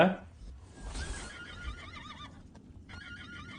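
Horse neighs in the Heroes V strategy game, a loud whinny that rises and trails off, with game sounds and someone talking over it.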